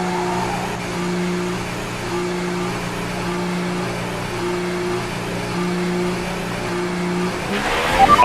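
A Formula 1 car in F1 2018, on the Monaco circuit, holds a steady high engine drone at speed, loud and continuous, and ends with a brief swell near the close.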